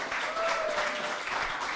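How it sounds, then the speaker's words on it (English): Brief, moderately faint applause from a small crowd in a store at a game studio showcase event, clapping blended with voices in the room. "Big round of applause in the store, please, for Jack Constantine."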